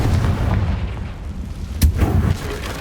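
A Confringo fire spell explodes in the Hogwarts Legacy video game, a deep rumbling boom with a sharp blast near the middle, followed by a low lingering roll.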